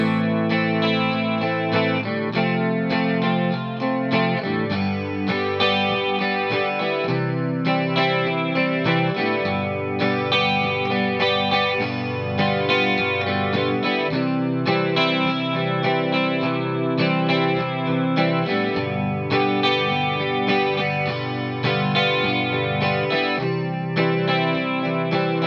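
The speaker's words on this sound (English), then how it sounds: "keep it simple, keep the strumming pattern going, and then make those chords" Guitar with chorus and light distortion strums the verse chord progression of a song in a steady, continuous rhythm, close and loud throughout with no voice.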